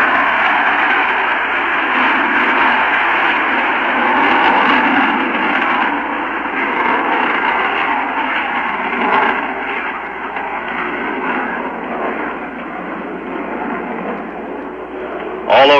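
The Freedom 7 rocket launch at Cape Canaveral in 1961 comes through as a sustained, dense broadband roar over a narrow radio-broadcast line, loud and continuous for about fifteen seconds before a sudden burst at the end.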